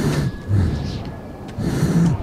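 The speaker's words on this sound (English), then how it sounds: "Change filter if you're breathing so bad." Heavy, labored breathing through a gas mask in Metro 2033, close and muffled, with two rasping breaths separated by a short pause.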